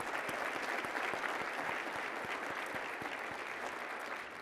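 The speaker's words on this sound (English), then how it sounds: "Could we give the interns a huge round of applause?" An audience gives a sustained round of applause for the interns, dense, steady clapping that fades slightly toward the end.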